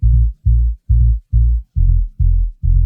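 Short sub bass synth notes played in FL Studio, seven deep, punchy stabs in an even stuttering rhythm, each cut off cleanly with silence between.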